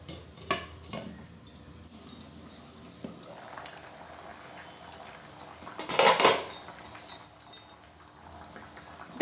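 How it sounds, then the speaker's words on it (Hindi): A metal lid clanks onto a pot of palak dal made with arhar dal and spinach, with a loud clattering burst in the middle amid scattered smaller kitchen knocks and taps. "अब इसे ढक देते हैं।"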